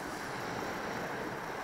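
Steady broadband wash of sea waves and swell breaking on a rocky fishing shore at dusk, continuous and fairly loud with some wind noise over the microphone and no talk.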